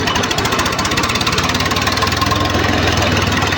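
A tractor engine runs steadily in a farm field in a Gujarati village, a loud, close, continuous diesel chugging with a regular knocking beat throughout, and no one speaking.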